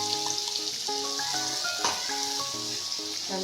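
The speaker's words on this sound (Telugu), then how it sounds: "తీసేసిన దాంట్లోనే ఇప్పుడు అదే నూనెలో అల్లం వెల్లుల్లి పేస్ట్," Ginger garlic paste frying in oil in a pan for a raw banana curry, a loud continuous close sizzle with faint stirring scrapes.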